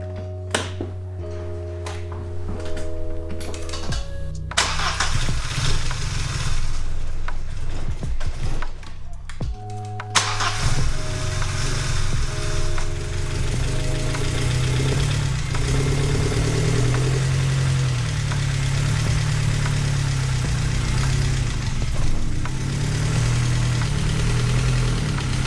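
An Audi 80 engine, just fitted with a new rotor cap, cranks briefly, catches, stumbles once, then settles into a steady, close idle with a low rumble and slight knocking vibration.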